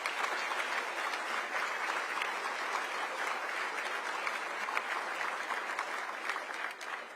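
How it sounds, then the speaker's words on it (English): Sustained, even applause rises from a crowd at an event with Boston Mayor Michelle Wu, honoring her dedicated team with dense, continuous clapping for about seven seconds. "Please give a round of applause to our incredibly dedicated team"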